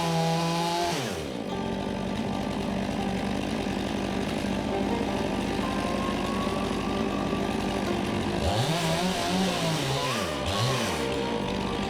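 Chainsaw running steadily while making the back cut on a large pine tree between houses, a loud continuous drone with the engine pitch sweeping up and down near the end as the bar works through the trunk.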